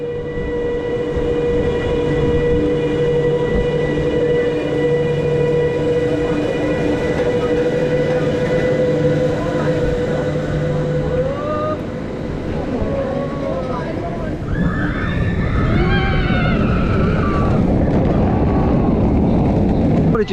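Kumali, a suspended looping roller coaster at Flamingo Land, rumbles and clatters along its track with a steady mechanical drone, then turns rougher and noisier as riders' voices break through toward the end.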